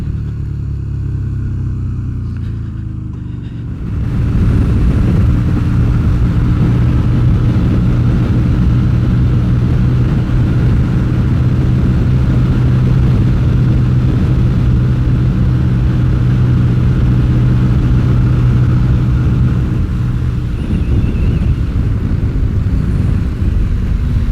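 A Yamaha Virago XV250 motorcycle engine, rejetted and running on its low pilot circuit, is started and revved through its range. A loud, sustained, close engine drone holds steady for about twenty seconds and dips slightly near the end.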